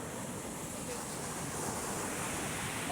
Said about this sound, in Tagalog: Ang laking alon doon, umahampas sa malaking bato doon